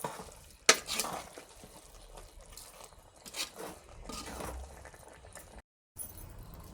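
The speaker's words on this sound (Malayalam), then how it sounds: "ഇത് ഈ പരുവാകുമ്പോൾ ഈ പൊരിച്ച ചിക്കൻ ചേർത്തിട്ട് നല്ല മിക്സ് ആക്കണം അല്ലേ?" Fried chicken is stirred into a pot of biryani, producing a continuous soft scraping and rustling with a sharper knock near the start and a brief pause toward the end.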